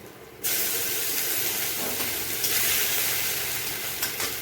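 Cumin seeds and garlic dropped into hot oil in a Bengali kitchen burst into a loud, sudden sizzle that keeps hissing steadily close by.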